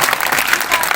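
Dense, continuous clapping from a poetry recital audience fills the short stretch, loud and close, with crowd murmur mixed in.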